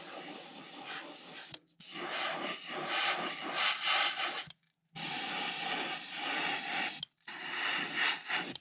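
An airbrush sprays orange paint onto a crawfish fishing lure in a steady close hiss, broken into three long bursts by short silent pauses.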